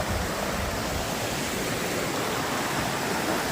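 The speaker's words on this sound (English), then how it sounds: "Nice flow of water." A trail stream on the Appalachian Trail flows strongly, giving a dense, even roar of water like a small cascade, constant and near for the whole stretch, with no talking.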